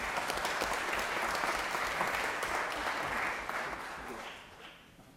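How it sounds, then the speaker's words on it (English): A crowd applauds steadily in the Georgia Senate chamber, a dense wash of clapping, then the applause gradually fades out toward the end. "give this group a big round of applause"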